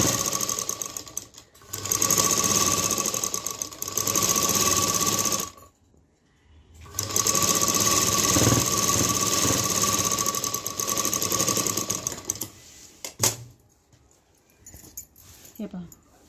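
A sewing machine stitches blouse pieces together in two long steady runs of several seconds each, separated by a short pause, followed by a brief burst and softer handling noises.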